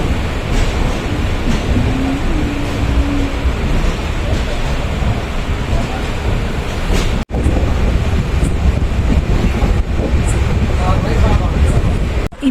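Steady rumble and rushing wind noise inside a moving Mysuru Express passenger train, a continuous loud roar with a brief dropout midway and no clear talk.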